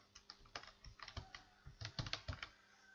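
Fast, irregular typing on a computer keyboard, crisp clustered key clicks at close range, quiet and alone with no voices.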